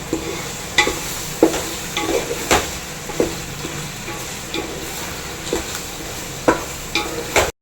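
Chicken stirred through tomato in a frying pan for biryani gives regular scraping strokes about every second over a low, steady sizzle, close by, with no one talking.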